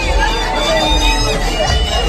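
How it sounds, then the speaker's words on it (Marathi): Dense crowd hubbub at the Dahanu jatra fair in 2026: a steady, loud wash of overlapping voices and bustle from a packed fairground with shops, continuous and close throughout. "गर्दी होत लागलेली आहे बघा तुम्ही"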